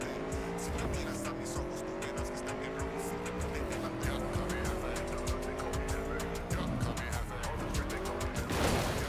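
Motorbike riding through city streets in the video game Cyberpunk 2077, engine revving up in repeated rising sweeps with tire squeals and skids, loud and close, with a voice talking over it.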